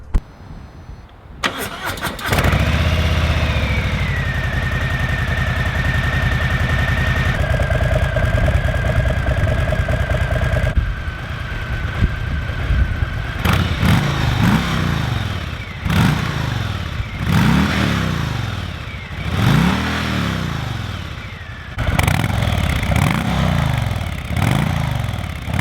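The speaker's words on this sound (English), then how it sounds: "let's hear what this bike sounds like" A stock 2019 Harley-Davidson Low Rider motorcycle cranks and fires up, settles into a loud, steady idle, then revs repeatedly in a series of throttle blips, close up with no talking.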